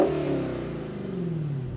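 A 2022 Dodge Challenger SRT Hellcat Widebody Redeye's supercharged engine roars near and loud at a launch, its deep revving pitch holding and then sliding down, with no speech.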